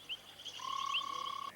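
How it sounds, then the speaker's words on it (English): Frogs croak a mating call, one rapid pulsing trill of about a second, near and fairly clear with faint chirps around it. "Frogs can send mating calls to each other."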